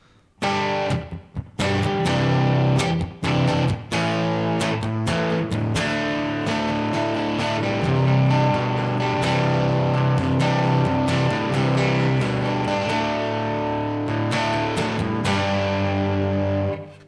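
Electric guitar, an IYV Emerald, with a moderate overdrive crunch, strummed chords and riffs ringing steadily, gritty but not heavy, played alone without talking.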